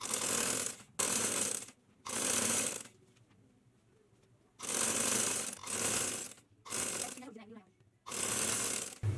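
A sewing machine stitches the waistband of a panel palazzo with full elastic in several loud, close whirring bursts of one to two seconds each, separated by quiet pauses with faint movement.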